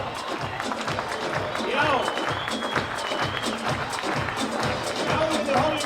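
Light applause from an audience at a horse auction, a steady patter of clapping with crowd murmur and a voice over the top.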